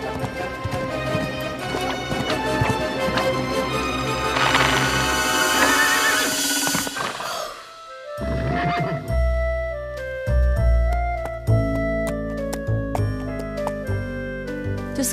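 Cartoon horse hooves clip-clop in a rhythmic trot alongside a busy musical score, with a brief lull before the music and hoofbeats resume.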